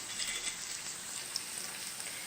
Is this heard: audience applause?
no